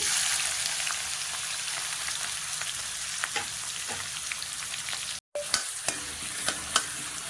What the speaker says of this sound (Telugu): ఉల్లిపాయ ముక్కలు వేగుతున్నాయి కదండి